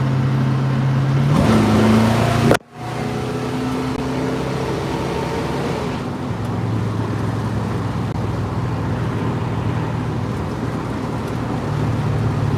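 A Ford Falcon engine with hot, noisy headers drones loudly inside the car, shifting tone as it revs, with a brief sharp dropout partway through and a steady engine rumble continuing afterward.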